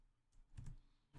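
A few soft clicks from a computer keyboard being typed on, brief and faint in a quiet room, with one sharper keystroke at the end.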